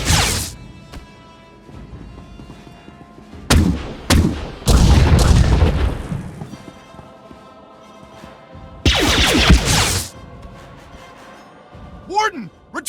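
Gunfire and blaster bursts in SWTOR, heard as loud, dense volleys and booming impacts in several clustered bursts, with quieter stretches between them and a few whooshing sweeps near the end.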